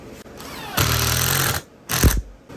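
A 12-volt cordless screwdriver drill is test-run, giving a loud, close motor whir for under a second, then a shorter second burst after a brief pause.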